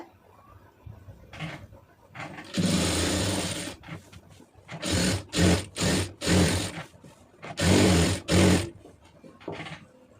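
A sewing machine stitching around chudidar fabric runs in several bursts, some long and some short and rapid, with a loud mechanical whir that stops and starts between pauses, close by.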